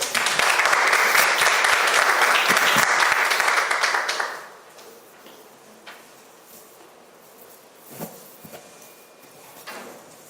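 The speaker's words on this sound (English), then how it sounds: "Let's give him a round of applause." An audience at a market research finalists' presentations and awards ceremony gives a round of applause, dense clapping lasting about four seconds before dying away into quiet room noise with a few scattered knocks.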